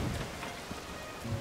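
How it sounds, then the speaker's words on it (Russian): Rain falls in Zelda: Tears of the Kingdom, a steady hissing patter spread evenly across the brief moment, moderately loud with no voices over it. "Дождь пошел."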